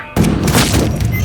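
A loud, sudden burst of gunfire in the video game Ghost Recon: Future Soldier, a booming shot with a long rumbling tail filling the moment.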